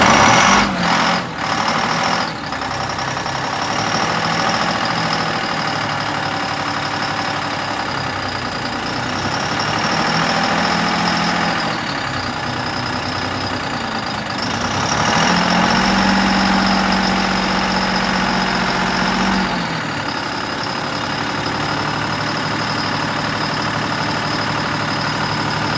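A Detroit Diesel 6V71 engine in an MCI 5C bus idles loud and steady, a constant low rumble with a whining overtone that swells briefly midway before settling back to an even idle.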